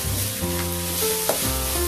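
Nasi goreng fries in a hot pan, a steady close sizzle with scraping and stirring clatter underneath, with no talk.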